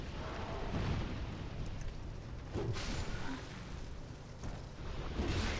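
An explosion in Dark Souls II, booming through the Gutter and Black Gulch area: a couple of broad, rumbling blasts stand out over a dense, noisy game backdrop, with voice activity faintly present.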